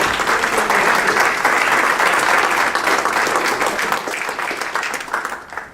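An audience at a community redevelopment meeting gives a loud, sustained round of applause for a senator, dense clapping from a packed room that holds steady and then tapers off.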